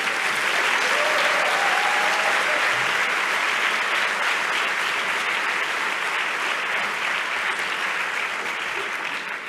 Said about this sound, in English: Truly a team effort that I think deserves an applause.